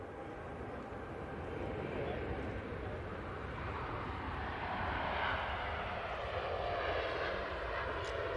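An airliner departing Manchester Airport roars as a broad, distant jet rumble that swells gradually and holds steady, with faint talk in the background.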